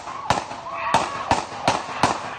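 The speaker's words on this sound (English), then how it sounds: "At least 7 bullets were fired." Several sharp gunshots from a police officer's weapon during a street shooting in Kenosha, captured on an eyewitness phone: four loud cracks in a quick irregular series over steady background noise.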